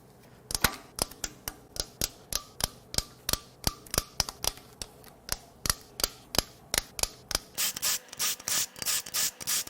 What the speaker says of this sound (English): These cam cap bolts crack loose.